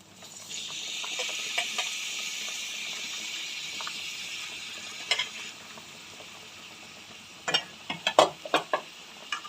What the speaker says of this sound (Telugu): దీనిలో ఇప్పుడు మనం క్లీన్ చేసుకున్న పచ్చి రొయ్యలను వేసుకోవాలి